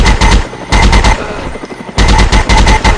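Rapid automatic gunfire from a video game firefight, with loud bursts of shots in quick succession, a brief lull in the middle, then more sustained bursts.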